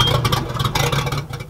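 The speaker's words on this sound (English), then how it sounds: "Then start your engine and let it idle until you see the antifreeze coming back out of the outdrive." A Volvo Penta 5.7 Gi V8 marine engine idles on flushing muffs during winterizing, a steady, fairly loud mid-pitched running hum with slight pulsing, heard alone without talk.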